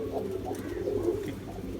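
Pigeons coo in low, soft, rolling murmurs, several overlapping calls repeating steadily close by against a faint background hum.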